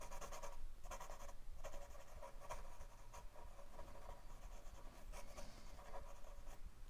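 Close, faint scratching of a mechanical pencil shading on paper, with quick repeated back-and-forth strokes in short bursts as shadow lines are drawn in a landscape sketch.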